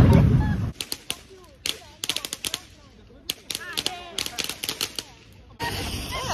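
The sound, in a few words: New Year firecrackers exploding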